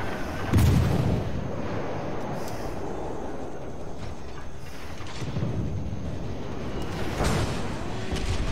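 Naval gunfire in the World of Warships video game: deep booming salvos at the start, middle and end over continuous rumbling battle ambience, with no speech.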